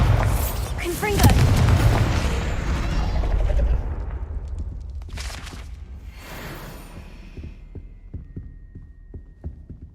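Explosive spell blasts, Bombarda and Confringo, in a Harry Potter video game: a loud burst of booms and crashing debris early on, then fading rumble with a series of sharp, regular thuds near the end.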